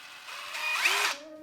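An impact driver's motor spins up as its pressure-sensitive trigger is squeezed, giving a brief rising whir that holds for under a second and then winds down, close and fairly quiet.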